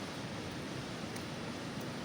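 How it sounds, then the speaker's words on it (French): Steady, dense rushing water fills the clip, a continuous broadband roar from a nearby waterfall near the lake at Le Malzieu-Ville, with no pauses or talk. "Regardez-moi ça, cette belle cascade."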